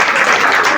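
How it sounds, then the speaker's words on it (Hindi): Loud applause from a crowd at a Shiv Jayanti and birthday gathering, dense clapping filling the short moment without a break. "दादी को सबसे पहले जोर से तालियां बजाओ दादी के लिए"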